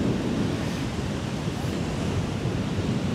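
Steady roar of surf along a long beach in Pattaya, with strong wind buffeting the microphone, a constant wash of noise without pauses.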